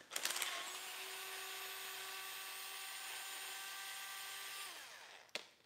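A power driver whines steadily as it backs screws out of a skateboard grind plate. It starts with a brief rattling burst, holds a sustained high whine, then cuts off, and a sharp click follows near the end.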